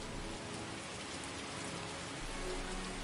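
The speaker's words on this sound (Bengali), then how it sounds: "ঝড় বৃষ্টি শুরু হয়ে গেছে।" Heavy rain pours steadily and densely, a constant loud hiss of drops on surfaces with a low rumble underneath.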